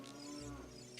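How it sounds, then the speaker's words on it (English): A cow in Zelda: Ocarina of Time Master Quest gives one drawn-out, nasal in-game moo, faint and alone with no voices. "Let me just see if I can hit that cow."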